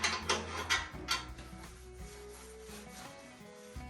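Bolts being tightened on the front bumper of a 1967 C30 truck: quiet, rhythmic ratchet clicks come in quick bursts at first, then settle into softer metallic turning and rubbing.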